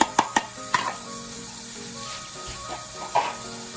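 Tomatoes hit a hot pan with guanciale and onions, a close, steady sizzle with a few sharp clinks at the start and a brief stir near the end, no voices.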